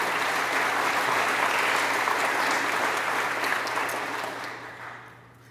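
Banquet guests at a 2018 Teacher of the Year awards event clap for Todd Temple, who runs the web page and media, a loud, even round of applause that tapers off at the close.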